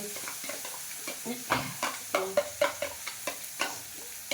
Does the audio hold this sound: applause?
no